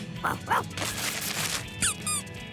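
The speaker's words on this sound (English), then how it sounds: "It's a squeaky toy." Squeaky toy in the children's cartoon Ben and Holly's Little Kingdom, giving several short, bright squeaks in an irregular run, close and clear over light background sound with no talk.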